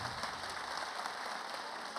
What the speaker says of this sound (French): applaudissez encore très fort Thomas et Barbara Bernstein